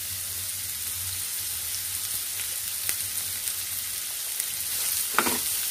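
Ridge gourd peels and coriander leaves frying in hot oil for a chutney, with a steady, even sizzle like light rain close by and a few faint stirring clicks toward the end.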